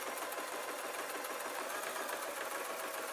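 Sewing machine stitching fleece with strong thread, a steady, fairly quiet mechanical whir running continuously without pauses.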